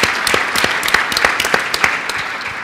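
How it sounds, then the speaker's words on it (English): Steady applause from a conference audience for a youth panel, many hands clapping densely and evenly at moderate loudness throughout. "Please join me in giving a round of applause to this panel"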